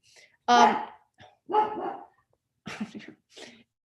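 A dog barks sharply several times in short bursts, close by, with brief silent gaps between barks.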